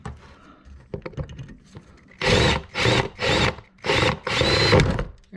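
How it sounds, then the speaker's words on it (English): A power drill bites into a stuck rivet on a Maytag LDE6914ACL dryer in loud, close bursts, five grinding pulses in quick succession after some lighter clicks and handling of metal parts. "so I'm gonna drill that out a little more."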